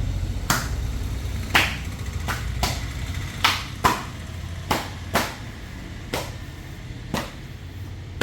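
Parotta dough slapped and beaten by hand by an experienced parotta master: about ten sharp, loud slaps land at irregular intervals over a low steady background hum.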